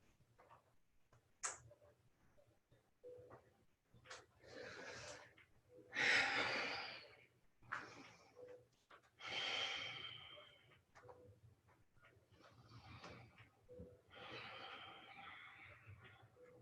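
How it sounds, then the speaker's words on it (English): Nasal breathing during a yoga vinyasa flow, with slow, soft inhales and exhales through the nostrils repeating in a calm rhythm, close and quiet, with a faint click and a brief sniff early on. "Breathing just through your nostril if you're able."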